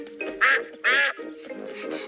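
A cartoon duck from Peppa Pig, the duck wearing yellow boots, quacks in two loud, close calls at the start and middle, with softer quacking between them, and no speech.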